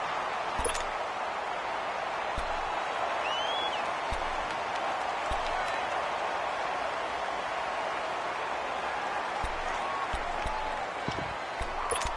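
Steady, dense crowd roar from an American football video game stadium, a constant broadband swell that carries through the whole stretch with a few faint thumps and a brief whistle-like tone, no clear speech on top.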